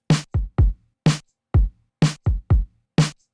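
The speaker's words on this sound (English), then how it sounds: "And our drums sound like this." A dry drum beat of punchy kick and snare hits in a repeating syncopated pattern, loud and isolated with silence between strikes.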